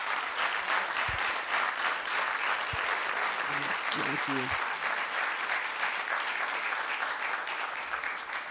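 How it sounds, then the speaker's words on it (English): Sustained audience applause fills the room after a panel discussion on education, steady clapping from a crowd throughout, with a brief spoken thanks heard under it. "could you please just give a thunderous applause to this wonderful panel?"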